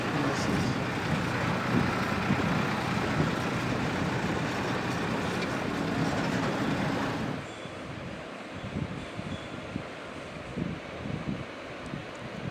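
A tractor engine rumbles along the road amid heavy wind buffeting, then the noise drops to a quieter, uneven chug.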